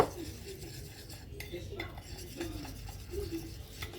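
Icing sugar being stirred into a bowl with a spoon for a home-made sweet, soft scraping and light clinks of metal against the dish recurring through a quiet kitchen.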